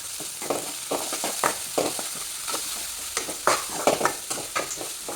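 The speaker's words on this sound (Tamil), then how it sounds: "இஞ்சி பூண்டு பேஸ்ட் வந்து கொஞ்சம் சேர்த்து நல்லா பச்சை வாடை போகிற அளவுக்கு வதக்கிக்கோங்க" Ginger garlic paste sautéing for mutton chukka, with a steady sizzle broken by repeated scraping strokes of a spoon in the pan, close and moderately loud, no voices.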